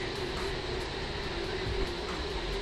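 The Progo economy passenger train pulls into Cirebon Prujakan station, producing a faint, steady rumble and hiss of rolling wheels without any distinct horn or voices.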